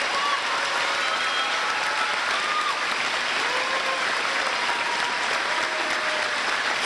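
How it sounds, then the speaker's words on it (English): A high school graduation audience applauds scholarship recipients and businesses with a steady, dense wash of many hands clapping that continues without a break. "Please give these scholarship recipients and businesses a round of applause."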